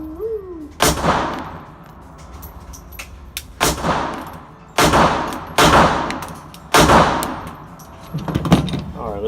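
Five sharp pistol shots from a Gen 4 Glock in .380 ring out at a shooting range, spaced a second or two apart with echoing decay, while people talk quietly between them.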